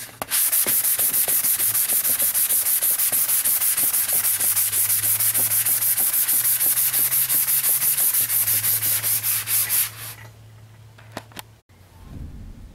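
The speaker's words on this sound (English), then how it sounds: "thing I'm using is this sanding sponge. It's for drywall, sanding drywall." Rapid, steady back-and-forth rasping of a drywall sanding sponge on a painted motorcycle tank, loud and continuous, stopping abruptly near the end.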